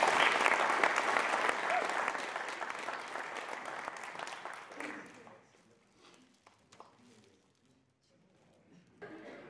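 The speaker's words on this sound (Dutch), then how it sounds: "Mag ik een applaus voor Reactie." Warm clapping from an audience honoring a volunteer prize winner, dense and lively for about five seconds, then thinning into scattered claps and murmuring before a brief swell returns.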